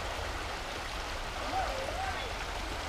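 A small river at the Upwey Wishing Well and Water Gardens, a steady low rushing and gurgling of water running continuously, with a faint bird chirp briefly over it.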